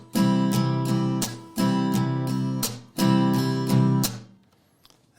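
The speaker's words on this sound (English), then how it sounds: "Now what I'm going to do is add a scratch sound" Strummed guitar chords in a steady rhythm, each group ending with a sharp percussive scratch, then a short pause and faint noise at the end.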